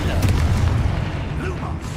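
A Confringo fire spell explosion in the video game Hogwarts Legacy: a short, loud, low boom with rumbling debris that fades over two seconds, close and dominant.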